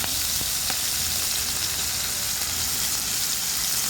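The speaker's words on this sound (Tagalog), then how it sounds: "dyan natin igigisa yung ating sibuyas" Onions sizzle steadily in hot oil in a pan, a dense, close hiss with faint crackles and no pauses.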